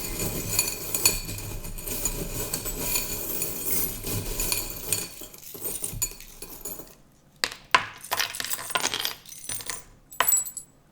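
Small metal charms clink and jingle together in bright, scattered bursts, first as a dense continuous rattle, then as separate sharp taps and clusters after a brief pause, close and fairly loud.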